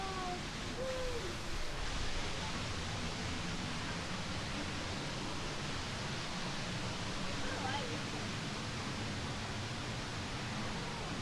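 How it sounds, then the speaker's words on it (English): Steady, broadband roar of rushing water heard from beneath a jungle waterfall, constant and enveloping with no breaks, a brief voice faintly audible early on. "Oh, we are under the waterfall."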